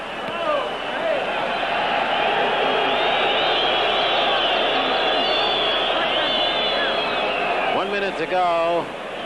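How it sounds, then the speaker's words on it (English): A boxing crowd at a Wilfredo Benitez versus Ray Chavez Guerrero bout gives a loud, sustained roar of disapproval after a kidney punch, dense and steady throughout, with a ringside announcer talking over it and a whistle-like call near the end. "Crowd booed because Benitez hit"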